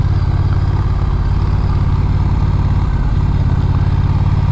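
A Honda Rebel 1100 motorcycle engine idles close by, a loud steady low rumble with an even pulsing throb throughout, no voices.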